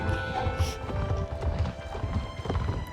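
Horse hooves clip-clopping steadily on the ground in the Star Stable video game, a continuous rhythmic trot heard fairly close, with a faint whinny and some background game sounds.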